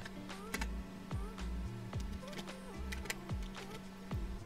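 Typing on a computer keyboard while entering text, a steady patter of close, crisp key clicks in an uneven rhythm over a low electrical hum, with no voices.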